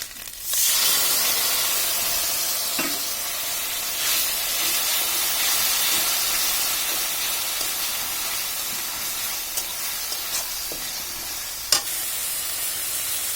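Onion, garlic and ginger paste sizzles loudly in a hot pan, a continuous hissing fry with a few small pops and clicks.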